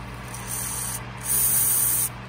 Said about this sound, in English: So you just pressure blasted the cleaner through those little holes.